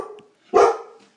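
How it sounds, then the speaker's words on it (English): One loud, close bark from a dog rings out in the middle, with faint background noise before and after it and nobody speaking. "My dog is barking in the background there."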